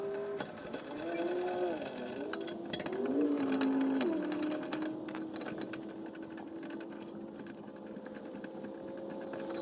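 Power tool with a 17 mm socket spinning off the rear brake bracket bolts on a Toyota Sienna, a continuous whirring motor whose pitch rises and dips for several seconds, then settles into a quieter steady run.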